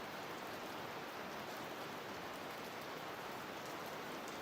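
Steady rain noise plays throughout as a constant, even hiss of falling drops, moderately quiet and unbroken, with no voices over it.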